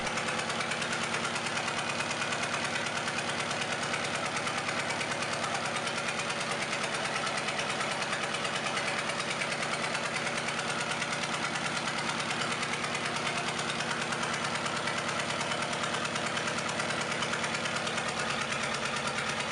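A 1971 YUMZ-6 type four-cylinder naturally aspirated diesel of about 4.75 liters runs steadily at idle, a loud, even knocking chug with constant vibration throughout, no voices.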